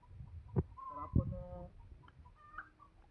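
Free-range chickens on an organic village poultry farm clucking and calling, a few separate clucks and short crowing notes close by, with soft thumps and faint background noise.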